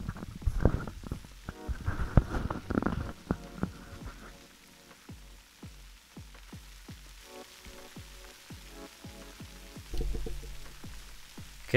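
Packing peanuts dissolving: crackling, popping fizz with irregular snaps and drips, sizzling as they dissolve; heavier rustling and clatter at the start, then steadier crackle.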